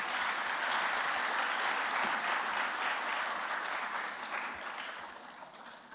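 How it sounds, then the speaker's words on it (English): An audience at a Kuchipudi dance show applauds the dancer's family, steady close clapping that holds strong and then gradually tapers off. "A big round of applause for her family members."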